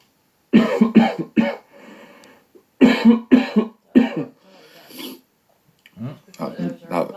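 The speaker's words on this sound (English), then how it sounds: "that was just me coughing" Several sharp coughs come in quick bursts, close to the mic, with quiet breathy pauses between them and a final cluster of coughs.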